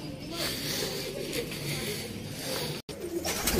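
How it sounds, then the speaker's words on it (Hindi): A large pigeon coos softly nearby amid a low, busy background, with a short abrupt cutout near the end before the sound resumes. "माशाल्लाह बहुत बड़े साइज का कबूतर है।"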